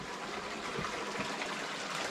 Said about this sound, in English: So this is where like most of the water flows.